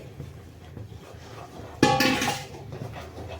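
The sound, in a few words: stirring wheat flour into water in a pot for khichiya papad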